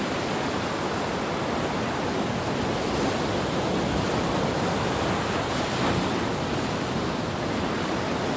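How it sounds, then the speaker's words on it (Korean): Pacific Ocean surf rolling onto the beach at Katsurahama in Kochi, a continuous, fairly soft wash of breaking waves with faint wind and no voices. "태평양으로 열린 정말 시원한 해변입니다."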